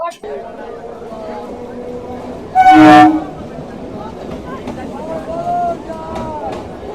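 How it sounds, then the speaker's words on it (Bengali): A passenger train bound for Kakdwip and Namkhana, on the line past Lakshmikantapur, rumbles steadily, then sounds one loud horn blast of about half a second. A fainter second toot follows later, and voices carry on underneath. "এই ট্রেনটি নটা বেজে পনেরো মিনিটে আবার কাকদ্বীপ নামখানার উদ্দেশ্যে রওনা হবে"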